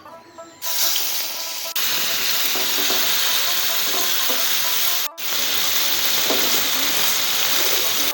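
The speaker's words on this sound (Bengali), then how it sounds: "মাছগুলোকে এবার ভালো করে ভেজে নিব।" Fish fries in hot oil in a wok, giving a loud, steady, close sizzle that cuts out briefly near the start and again for a moment midway before resuming.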